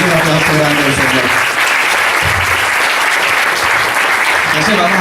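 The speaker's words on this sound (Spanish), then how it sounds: "Es un aplauso grande del Señor." Applause from a church congregation fills the room steadily and loudly, a dense wash of clapping from start to finish with voices murmuring beneath it.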